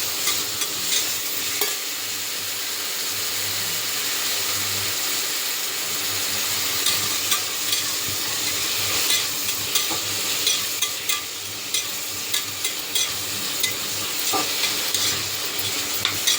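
Three chopped tomatoes are mashed and stirred in a pan for green field bean (pachai mochai) sambar: a continuous sizzling hiss with soft scraping and tapping throughout, and no voices.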